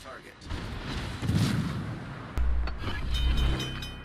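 Artillery strike in a combat video game, a loud barrage of booming blasts and thuds that swells in two heavy waves, with radio-style voice chatter underneath.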